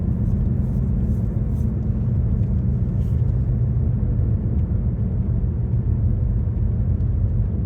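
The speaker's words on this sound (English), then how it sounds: "I'm going to go around this sharp curve." A car drives along a road and rounds a sharp curve, giving a steady, close, low engine and road rumble throughout with no talk.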